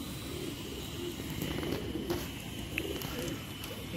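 A male Rampuri pigeon coos in low, soft, repeated rumbling calls, close by and steady against a faint background hum.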